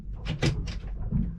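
Hanging locker door in a cabin aboard a 2019 Princess 70 yacht is handled, giving several close, quick clicks and light knocks over a short moment, with no one speaking.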